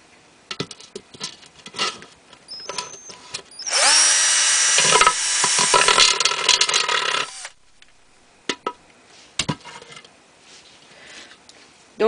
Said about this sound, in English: Don't push so hard when you first start drilling, that'll probably help.